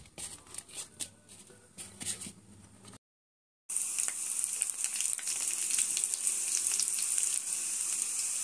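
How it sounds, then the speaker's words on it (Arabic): Flour-coated chicken strips go into very hot oil: after some lighter crackling, a brief pause, then a loud, dense, continuous sizzle of deep frying, close up and unbroken. "هبتدي انزل بقى في الزيت زي ما انتم شايفين كده، يكون الزيت سخن قوي."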